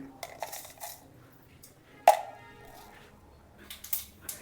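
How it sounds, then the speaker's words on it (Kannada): Mustard seeds hit hot oil in a pan while bitter gourd palya is cooked, giving a sharp sizzling crackle and small pops, a few scattered bursts near the mic with a louder crack midway, against a quiet background. "ಸಾಸಿವೆ ಕಾಳು ಹಾಕ್ರಿ"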